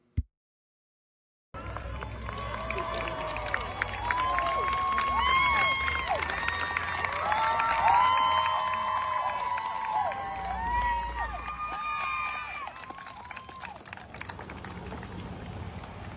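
A large crowd of women outside a courthouse cheering and shouting as a murder defendant arrives, with whistles, scattered clapping and overlapping voices, loud and sustained after a short silence.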